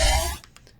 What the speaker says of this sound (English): it's just one of these Sci-Fi whooshes.